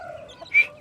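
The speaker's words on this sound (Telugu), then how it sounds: "ఈ కోడి చూడండి ఎట్లా తడిచి చూడండి ఫ్రెండ్స్ కోడి" A rain-soaked chicken gives a single short, faint cluck near the end, with quiet outdoor background before it.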